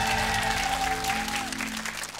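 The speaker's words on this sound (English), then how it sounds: "Give them a round of applause." Studio audience applause for two school quiz teams on a children's television quiz show, a short steady burst of clapping under a sustained musical sting, ending with a brief sound at the close.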